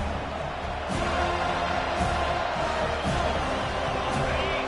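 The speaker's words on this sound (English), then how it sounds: "Here comes this home crowd as the defense tries to get off the field on third down" A home stadium crowd in College Football 25 roars steadily on third down, a dense, continuous wall of cheering with rhythmic surges, loud throughout.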